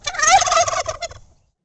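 A male turkey gobbles once, a loud, close, rapid warbling burst lasting about a second before falling silent.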